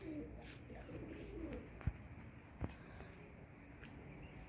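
Pet pigeon-like birds coo softly in a cage, a few low, gentle coos near the start alongside a couple of sharp clicks, all faint over a steady background hiss.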